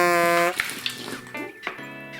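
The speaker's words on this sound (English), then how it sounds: "Watch what happens when I squeeze the water bottle." A plastic water bottle squeezed as a pump to push water through tubing in a circulatory-system demonstration, giving a splashy, gurgling rush of water with short drips and spurts, close up and fairly loud.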